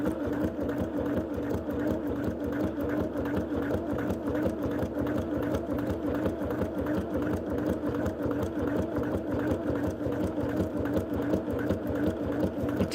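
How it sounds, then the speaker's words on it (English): A sewing machine runs steadily, stitching a long straight line through a single layer of sweatshirt fabric, its rapid even needle rhythm holding constant and close with no pauses. "And I'm going to stitch that whole line."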